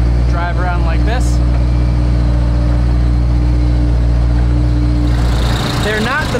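Backhoe engine running as the machine is put in gear, a loud, steady low diesel drone close by, with a person talking over it at the start and end.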